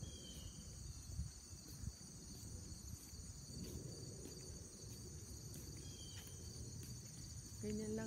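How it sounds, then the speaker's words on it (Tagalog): Crickets chirp steadily among trees in Maryland during an outdoor walk, a continuous high insect trill with faint background noise and occasional light sounds. "Ganyan lang ho dito, maririnig niya yung mga huni ng kuliglig."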